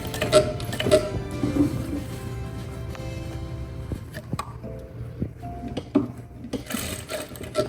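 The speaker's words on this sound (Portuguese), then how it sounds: "Vou até a máquina, costuro e depois eu puxo para fechar a abertura." A home sewing machine stitching the overlapped ends of an elastic band for a lace skirt, with a steady mechanical whir, short bursts of stitching and clicks and handling noises in between.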